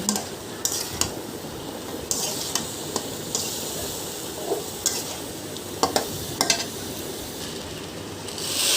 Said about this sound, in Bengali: এখনো মাংস কষায় নিচ্ছি, দেখতেই পাচ্ছেন।